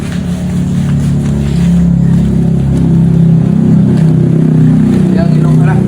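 An old motorcycle engine runs loud and close with a steady low rumble that swells slightly midway, with voices in the background.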